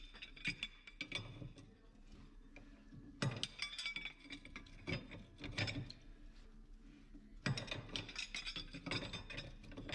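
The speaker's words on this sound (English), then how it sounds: "undoing that bracket now" Bracket bolts being undone on a John Deere 6830 tractor during an oil leak repair, giving repeated metallic ratcheting clicks in bursts with clinking tool sounds, fairly close and with no talking.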